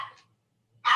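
A dog barks twice in a quiet home, a softer yip followed by a sharper, louder bark after a brief silence.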